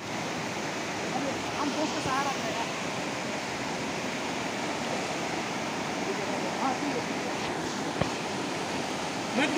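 River water rushes steadily in an outdoor setting during a picnic with friends, a constant broad wash of flow with faint voices now and then in the background.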